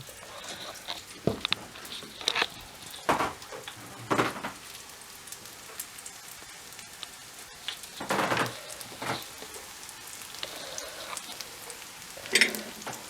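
Bananas frying in a pan give a steady crackling sizzle, with louder bursts of spitting oil here and there, close by and with no voices.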